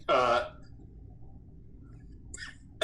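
A voices a short imitated cough near the start, a brief throaty burst, followed by quiet and then a faint breathy vocal sound near the end.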